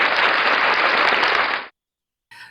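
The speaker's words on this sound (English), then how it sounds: "But hey, clap on that one" Burst of clapping from a crowd, loud and dense for about a second and a half, cutting off abruptly, then a short snatch of talk.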